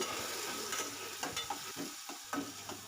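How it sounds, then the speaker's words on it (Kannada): Peanuts, urad dal, onion, green chili and curry leaves sizzle in hot oil in a home kitchen, a soft continuous frying hiss with a few light stirring scrapes, close but quiet, no voices. "ಈಗ ಈರುಳ್ಳಿ ಮತ್ತು ಹಸಿರು ಮೆಣಸಿನ್ಕಾಯಿ ಕರಿಬೇವನ್ನು ಹಾಕ್ಕೊಂಡಿದ್ದೀನಿ ಇದು ಚೆನ್ನಾಗಿ ಫ್ರೈ ಆಗಬೇಕು"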